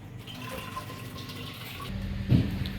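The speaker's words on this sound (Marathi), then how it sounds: "मी आता आमटीसाठी आणखी थोडं जादा पाणी वतले" Water runs steadily into a pot of chana dal being cooked for amti, growing louder and fuller toward the end with a brief splash.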